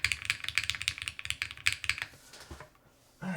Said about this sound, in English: Shall we give this a little typing test here?